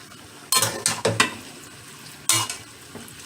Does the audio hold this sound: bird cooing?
no